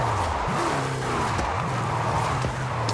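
Car drifting in Forza Horizon 5 on a drift setup, tires squealing in wavering sliding pitches over a constant engine drone, loud and close.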